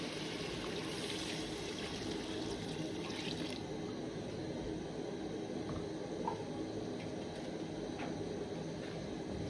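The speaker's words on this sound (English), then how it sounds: "So then let's add our water." Water pouring steadily into a cooking pot for potato porridge, a continuous close rushing splash that runs evenly throughout without pause or voices.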